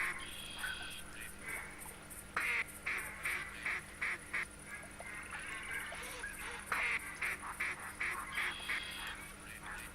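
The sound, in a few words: ducks quacking in hunting video game The Hunter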